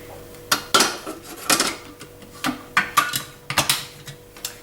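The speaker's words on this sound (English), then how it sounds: "Once again, I forget to put the lid on." A plastic lid being fitted onto a kitchen food processor, a series of close, sharp clicks and clatters in an uneven rhythm, with no talking.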